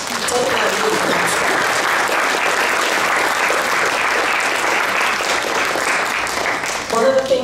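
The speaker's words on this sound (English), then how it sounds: "let's give them a round of applause for taking that feedback." Loud, sustained applause from a room full of people clapping steadily at a Toastmasters training event, ending as a voice begins to speak.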